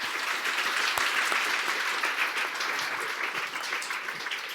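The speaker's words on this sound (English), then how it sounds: "I'd like to end by just asking everybody to join me in applauding my fantastic team" Audience at a London coding bootcamp demo day applauding the team, dense sustained clapping from a sizeable crowd, fairly close and steady throughout, tapering slightly toward the end.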